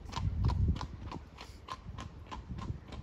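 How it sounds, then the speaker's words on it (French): A single horse walks along a road in Málaga, Spain, its hooves making a regular, fairly close clip-clop rhythm with no voices. "Nous sommes bien en Espagne, il y a des chevaux sur la route."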